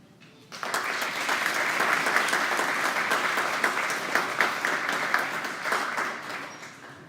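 A crowd at a school awards ceremony bursts into steady applause that starts abruptly and keeps going evenly for several seconds, dense clapping filling the room.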